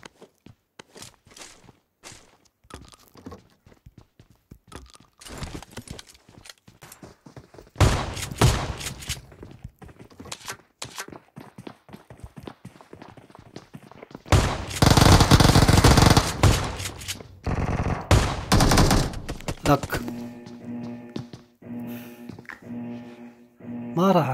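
Shotgun blasts in PUBG Mobile from a five-round shotgun, fired as scattered loud shots and clustered bursts amid footsteps and quieter game noise, with a few heavy booming stretches.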